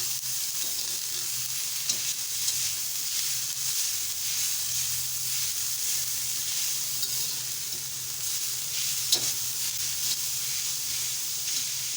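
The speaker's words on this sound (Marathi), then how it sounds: "आणि परतून घेऊया आणि मीठ घालूया आता व्यवस्थित परतून घेऊया" Bitter gourd pieces stir-fried with salt on a hot griddle: a continuous, loud hiss and sizzle with occasional scrapes of a spatula, close up and without speech.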